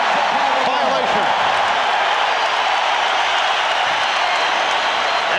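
A basketball arena crowd at Game 4 of the 1993 NBA Finals between the Suns and Bulls roars loudly and steadily after a defensive stop, a broad sustained wash of cheering with a voice speaking over it.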